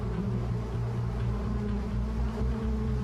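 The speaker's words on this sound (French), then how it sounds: "L'abeille européenne, très répandue aux États-Unis, est moins agressive que l'abeille africanisée." A swarm of European honey bees buzzes steadily and close, a dense, continuous drone with no voices.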